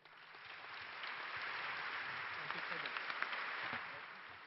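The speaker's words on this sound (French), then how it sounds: "Je vous invite à applaudir nos invités." An audience at a chartered accountants' congress plenary session applauds the invited guests: a sustained, even wash of clapping from many hands that swells, holds steady for several seconds, then begins to taper off.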